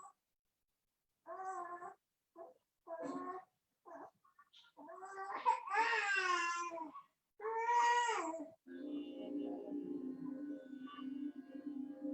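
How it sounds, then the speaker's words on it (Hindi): A baby cries in several short bursts separated by pauses, rising into longer wailing cries, loud and close, then quieter music plays after the crying stops. "अब ये बच्चा रो रहा है"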